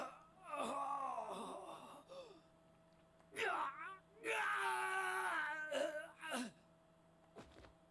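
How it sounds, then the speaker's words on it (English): A recruit in the Persona 4 Arena video game lets out an agonized scream: long wailing, moaning vocal cries with gasps, rising and falling in several loud bursts over a few seconds, close and alone. "The recruit fell to the ground with an agonized scream."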